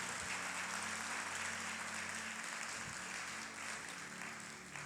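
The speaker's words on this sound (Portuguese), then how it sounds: "Você pode aplaudir ao Senhor" A church congregation applauds together in a sustained, even wash of clapping, heard from a distance and fairly faint, with no talking over it.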